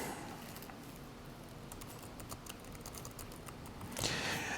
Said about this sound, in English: as the student is typing here